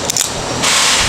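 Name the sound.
drink can being opened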